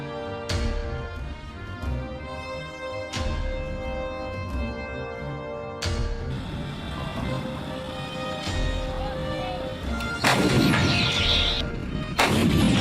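Heavy artillery guns firing in a war zone: repeated loud booming blasts at irregular intervals over a constant rumbling background, with a harsher, denser burst of firing near the end.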